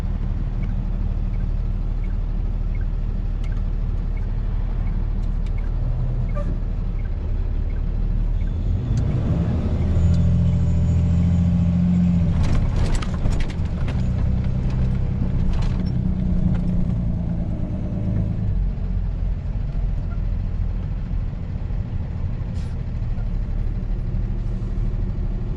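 Street traffic streams past a roadside tow scene, cars and heavier vehicles rumbling by one after another, swelling to a loud close pass midway before fading back to a steady background drone.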